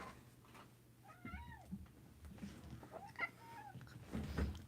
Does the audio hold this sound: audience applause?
no